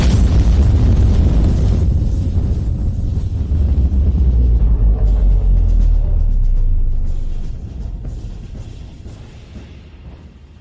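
A massive detonation booms and rumbles with heavy low-end weight for several seconds, then slowly fades into scattered debris-like crackles.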